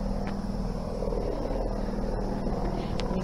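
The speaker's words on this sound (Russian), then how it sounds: "Ага, там наверху летает вертолет." A helicopter flies overhead above an autumn street in Rostov-on-Don, heard as a steady, distant rotor drone that continues unbroken for a few seconds under faint outdoor background noise.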